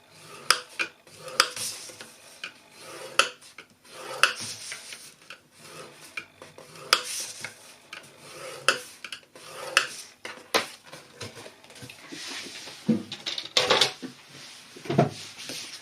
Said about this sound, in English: This you're going to score on all four sides as well, and you score it at 1 inch all around.